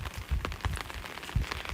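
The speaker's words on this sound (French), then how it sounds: "vous entendez vraiment le bruit de la pluie" Rain falls outside in a soft, steady patter, with scattered heavier drops tapping near a microphone at uneven intervals over a faint hiss.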